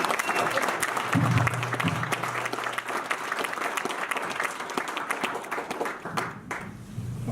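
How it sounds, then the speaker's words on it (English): An audience at a public open house for a river corridor project gives a sustained round of applause, dense steady clapping throughout with a few voices mixed in. "If we can have a round of applause for those guys."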